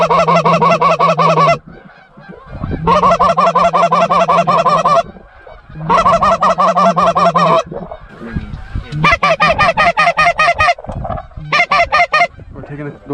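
Flock of geese honking loudly and close during a goose hunt in Iowa, dense overlapping honks in repeated bursts with brief pauses between, no talk over them.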